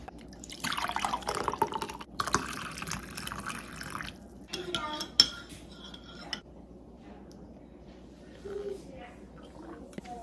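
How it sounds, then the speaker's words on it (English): Chai concentrate and steamed milk pour through a small spice strainer into a mug, a splashing liquid stream in two bursts with light clinks of the strainer against the cup, and some quiet voices in between. "You're gonna fill your cup about 2/3 of the way full with the chai concentrate, and then you're gonna top it up with the steamed milk."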